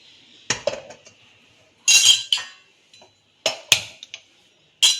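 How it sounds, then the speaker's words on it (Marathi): A kadhai (wok) is set on a home kitchen stove to heat, giving several sharp, close metallic clinks and clanks in irregular bursts with quiet gaps between, no talking. "आता आपण कढई गरम करायला ठेवूया"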